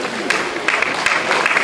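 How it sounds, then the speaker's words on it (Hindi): An audience applauds rank holders at a college convocation ceremony. A steady wash of many hands clapping carries on evenly throughout, with a few sharper claps standing out. "Big round of applause."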